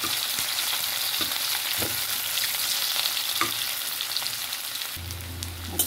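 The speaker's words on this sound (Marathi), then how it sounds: "आता काय लसूण आणि कांदा फ्राय करून घेणार" Garlic and onion fry in a pan with a loud, continuous sizzle and crackle, punctuated by occasional stirring knocks, close by, with a low hum entering near the end and no one talking.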